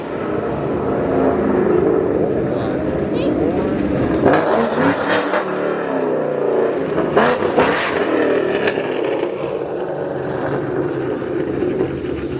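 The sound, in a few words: Ford Mustang Dark Horse R engine revving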